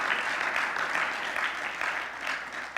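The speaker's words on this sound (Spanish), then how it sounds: "¿No le das un aplauso de alabanza a Él?" A church congregation gives an applause of praise during a Spanish-language sermon, dense, steady clapping at moderate volume that swells and pulses slightly over a few seconds.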